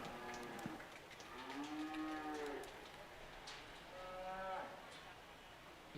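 Black Angus heifers at a breeding heifer class at the Custer County Fair moo loudly several times, long drawn-out calls that overlap, against a busy indoor background.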